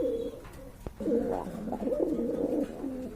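A female pigeon at a market stall coos in a run of soft, throaty phrases at close range, with a faint rustle and a light tap in the background.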